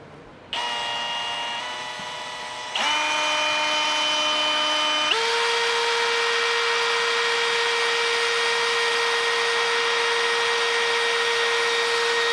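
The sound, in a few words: drilling a hole in a box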